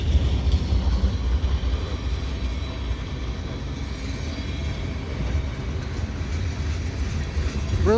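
A CN freight train rolls past at Dorval on a winter day, its steady low rumble and rail clatter holding close and loud throughout, with a brief squeal of wheels near the end.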